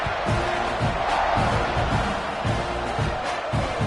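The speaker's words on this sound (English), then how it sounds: "this crowd is buzzing after that last score" A football stadium crowd buzzes after a score, a dense, continuous roar of many voices with scattered shouts and rhythmic chanting pulses, loud and sustained.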